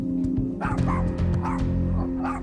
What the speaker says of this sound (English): she's discovered a mother dog called Isabella with a litter of newborn puppies